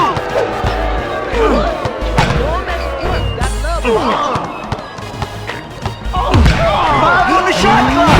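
A basketball slam dunk in NBA Ballers Phenom lands amid loud game sound effects: thumps, squeaks and crowd noise, with an announcer's voice over the action.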